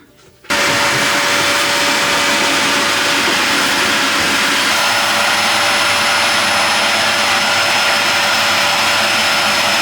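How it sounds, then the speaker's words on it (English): A vacuum cleaner switches on abruptly after a brief quiet moment and then runs at a loud, constant whine while hoovering inside a camper van, steady and close for the rest of the clip. "So I brought the vacuum out and we're just going to hoover in there."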